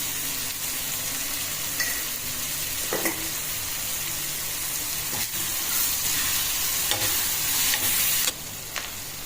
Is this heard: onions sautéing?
yes